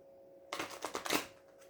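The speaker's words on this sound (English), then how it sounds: "That was a crappy shuffle." A deck of tarot cards is riffle-shuffled up close. A quick burst of fluttering card slaps lasts under a second, with faint background hum.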